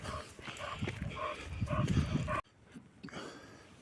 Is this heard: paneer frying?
no